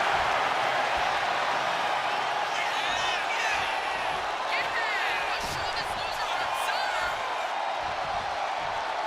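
Arena crowd roaring and cheering in the WWE 2K25 wrestling game during an NXT Mutiny championship tag title match, a dense continuous wall of crowd noise with commentary voices talking over it.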